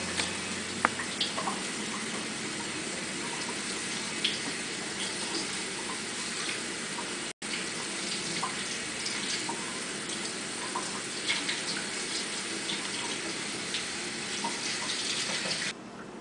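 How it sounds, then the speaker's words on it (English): Cold tap water runs steadily over freshly blanched vegetables in a kitchen, a constant close splashing stream with small clinks, continuing for the full duration without talk. "Cold water on them."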